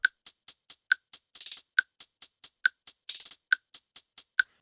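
A crisp hi-hat sample ticks in a steady, evenly spaced pattern in a produced beat, broken by two quick rapid-fire rolls, playing alone and close.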